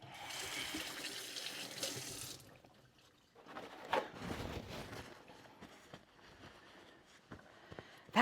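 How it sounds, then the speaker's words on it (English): A kitchen tap runs hot water as hands are rinsed at the sink, a steady hiss that breaks off and then returns, splashing and wavering as the hands move under the stream. The sound is quiet and close. "Rinse my hands again."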